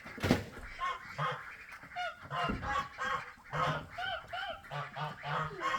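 Wet domestic ducks give repeated honking, nasal calls with breathy hissing, close by and in quick irregular bursts, while someone talks over them.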